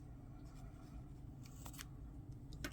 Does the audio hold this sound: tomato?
no